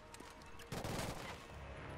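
Gunfire in the first-person shooter Killzone: Shadow Fall, a sudden loud burst of rapid shots erupting partway through and continuing densely to the end over quieter ambient game noise.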